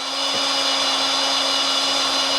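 Power drill with a 5/16 bit boring into metal for motorcycle fender frame mounts: a steady, loud, close-up motor whine, continuous throughout with no pauses.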